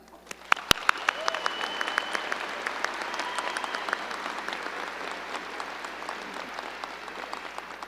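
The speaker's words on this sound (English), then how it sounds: "Join me in giving a round of applause to Lakewood faculty and staff." A full hall applauds faculty and staff at the Lakewood High School 2024 graduation: dense, steady clapping from a large crowd, opening with a few sharp claps and holding at an even level throughout.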